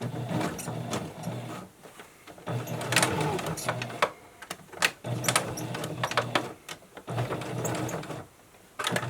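A sewing machine stitches face mask fabric in bursts of rapid mechanical whirring, with short pauses between runs as the cloth is tucked and folded, close and steady with light handling noise.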